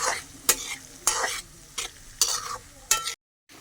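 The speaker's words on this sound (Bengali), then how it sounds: "পেঁয়াজটাকে একটু আমরা লাল লাল করে ভেজে নেব।" Onions frying in a pan for a Bengali egg curry (dim bhuna) make a steady sizzle, with four or five loud spatula stirring scrapes at regular intervals, then the sound cuts off abruptly.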